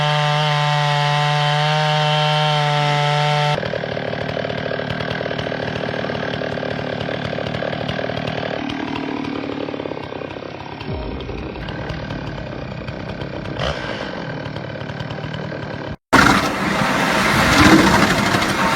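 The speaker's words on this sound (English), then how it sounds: "This wood crusher seems to gnaw and crush all kinds of wood that is placed in it." A homemade automatic firewood processing machine, a wood crusher with a 150-bar hydraulic system, grinds and crushes logs. It gives a loud mechanical drone with tonal whine and rough grinding, a change in pitch partway through and a sharp break near the end.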